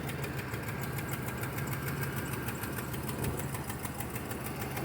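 A car engine idles just after an oil change, running with a steady, even mechanical hum and fine rapid ticking that keeps a constant level throughout, close by and alone without any talk.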